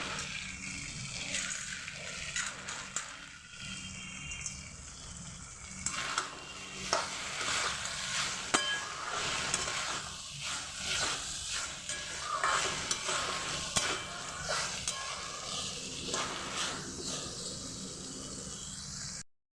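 Bori lentil dumplings fry with spices in a pan for a green bean dish: a soft, continuous sizzle under repeated scraping and clinking from a stirring utensil, fairly quiet and close.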